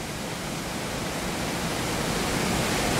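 Aysgarth Falls in the Yorkshire Dales pours over its rocky edge in a steady, dense roar of rushing water, loud and unbroken throughout with no voices.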